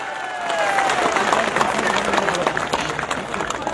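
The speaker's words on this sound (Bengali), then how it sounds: "সবাই একটু হাততালি দেবেন না?" A crowd at a Janata Unnayan Party political rally on an open ground in Domkal, Murshidabad, breaks into sustained clapping after a brief pause, with a voice over a loudspeaker audible beneath the applause.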